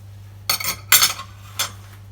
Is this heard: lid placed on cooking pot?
yes